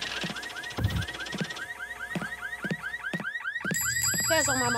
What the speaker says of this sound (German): Ich dachte, der Mechaniker hat das Alarmproblem behoben, aber offensichtlich nicht.